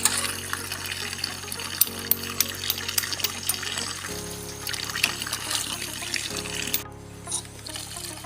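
Snails are washed in a bowl for a Filipino snail soup, water trickling and splashing steadily from a tap with small clattering stirs throughout.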